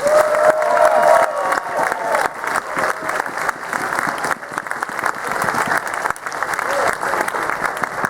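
Conference audience applause with some cheering and whoops, loud and sustained, a high voice briefly rising above the clapping early on.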